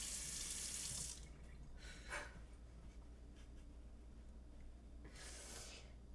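A bathroom tap runs while hair is rinsed, with bursts of splashing water rising and falling over a steady low hiss, close but fairly quiet, no speech.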